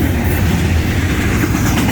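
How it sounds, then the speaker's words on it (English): A Florida East Coast Railway train passes close by the tracks, a loud, continuous rumble and rush of wagons rolling past with a steady clickety-clack throughout. "there was the train"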